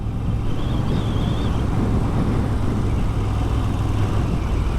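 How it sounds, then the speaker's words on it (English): A Moto Guzzi V7 Stone Special Edition motorcycle being ridden, a steady, loud engine drone blended with heavy rushing wind noise throughout, with no talk. "So, out on the Moto Guzzi V7 Stone Special Edition again today."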